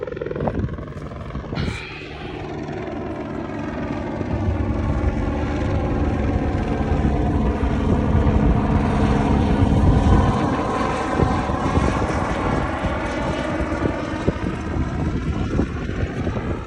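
A helicopter flies overhead, its rotor thumping and engine drone swelling steadily, loud and continuous for the whole stretch, with a short voice near the start.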